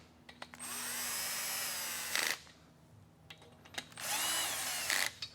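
Two long whining bursts from a small power screwdriver running nuts down on a Ford 5.4L 3V engine, each ending in a brief rattling clutch slip, with light clicks of parts handled close by between them.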